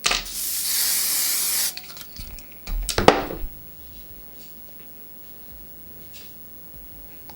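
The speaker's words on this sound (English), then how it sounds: "Spray a little more." A burst of hair spray hisses onto a wig for about a second and a half, close and loud, followed by a sharp tap and faint rustling handling sounds, no speech.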